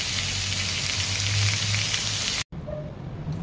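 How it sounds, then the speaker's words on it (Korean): LA galbi beef ribs sizzling on a grill at home, a dense steady hiss and crackle heard close up, broken by a brief cut before the sizzle resumes more quietly. "지글지글지글 고기 굽는 소리"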